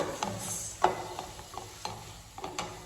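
Tomatoes being stirred in a pan for egg curry: repeated scraping spoon strokes in an uneven rhythm over a steady soft sizzle, close by, with no voices.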